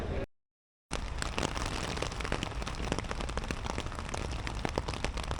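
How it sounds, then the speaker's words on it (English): Rain falls steadily while stealth camping in Germany, with dense patter and scattered sharper drops striking a close surface, continuing after a brief silent gap at the start. "It's been raining since about fucking 6 or 7 a.m."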